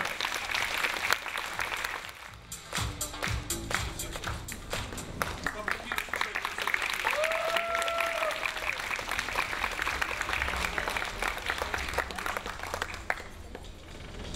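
Festival audience applauding at an awards ceremony in Chukotka, steady dense clapping running throughout with crowd noise, a brief whistle-like tone midway.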